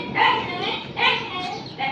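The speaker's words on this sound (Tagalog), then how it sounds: "Ang ingay ng mga aso." Several dogs bark in repeated bursts at a garden with squash and bitter gourd plants, the barking carrying from a short distance and recurring through the whole stretch.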